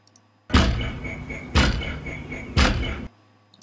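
Car door slams used as percussion in a techno track: three heavy, evenly spaced slams about a second apart, each a loud thud with a short ringing tail, and no voices.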